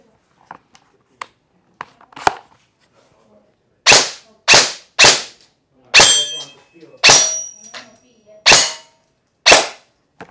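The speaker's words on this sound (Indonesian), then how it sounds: "Sekarang kita coba nembak." A VFC BCM 11.5 inch airsoft rifle fires a series of sharp, loud cracking shots at irregular spacing, each followed by a quick decay, after some faint clicks at the start.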